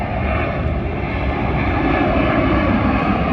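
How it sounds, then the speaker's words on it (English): Airplane engine droning steadily overhead at an outdoor street rod car show, a loud continuous broadband roar filling the whole stretch with no voices. "And there goes another plane."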